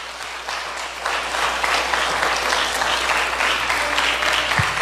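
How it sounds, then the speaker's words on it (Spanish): A church audience breaks into loud, sustained applause at a Christian sermon. The clapping is dense and steady, and it swells slightly after the first second. "Dale un aplauso fuerte"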